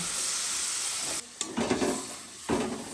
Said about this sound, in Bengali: সব মশলাগুলোকে ভালো করে কষিয়ে নেব